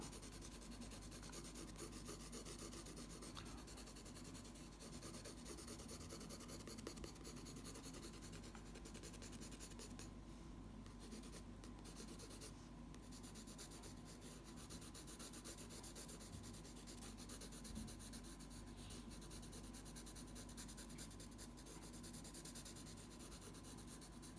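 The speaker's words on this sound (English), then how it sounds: "Now with the 2B pencil again, just adding areas of shadow with the side of the pencil" Quiet, continuous scratchy rubbing of a 2B pencil's side shading across paper, steady and soft with close-up detail and no talking.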